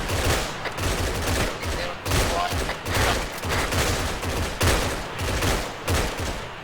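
Gunfire in the military video game Arma: dense, loud bursts of automatic fire and overlapping shots in rapid, uneven volleys, with brief gaps between clusters and no break in the barrage.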